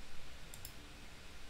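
A single mouse click on a create-repository button, a short crisp tick standing alone over faint background hiss.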